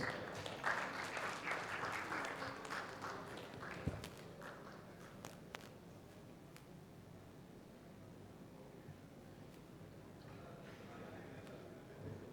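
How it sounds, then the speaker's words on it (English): Applause for the speakers at a medical conference session, a burst of clapping that is loudest at the start and fades within a few seconds, followed by quiet room noise and a few knocks. "give a very good applause for the speakers"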